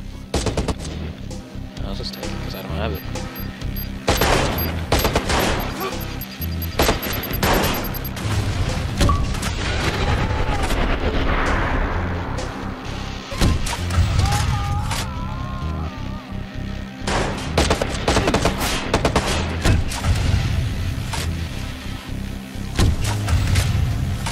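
Automatic gunfire in the Watch Dogs video game: repeated rapid bursts of shots and booms recurring throughout, loud and dense over a continuous game soundscape, with a voice talking at points.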